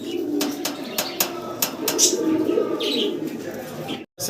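Soft pigeon coos and scattered chirps, including Koka pigeon chicks, under a steady murmur of nearby voices and background bustle at a pigeon sale.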